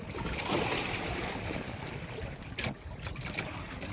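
A bangka boat out on open water on a grouper fishing trip, its steady broadband rush mixed with wind buffeting the microphone, continuous and fairly close, with no talking.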